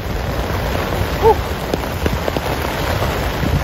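Heavy rain pours steadily onto surfaces in Green Hills, San Juan, making a dense, constant hiss with scattered louder drops.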